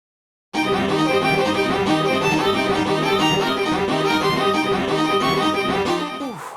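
A string quartet passage played back by music notation software, with a smooth, even, somewhat synthetic tone, sustained chords moving steadily before fading at the end.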